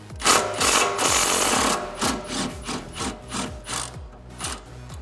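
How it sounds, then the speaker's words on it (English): Removal of the 18mm nut on a sway bar end link of a 2005-2014 Ford Mustang: quick repeated ratcheting clicks in bursts, close and fairly loud, with no talk. "now next we're going to be removing the nut for the sway bar end link, and that is an 18mm"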